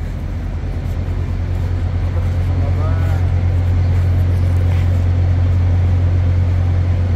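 The interior of a bus carrying umrah pilgrims, with a loud, steady low engine drone throughout and a voice talking over it.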